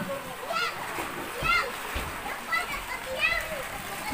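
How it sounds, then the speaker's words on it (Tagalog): Water splashes and sloshes as people bathe outdoors in the countryside, a steady wash of splashing with children's voices and chatter mixed in. "Yan, yung mga naliligo."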